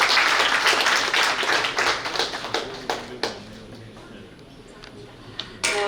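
Audience applause at a lecture during an anniversary ceremony and election winners' celebration, a dense burst of clapping that thins out over several seconds, with scattered claps at the end.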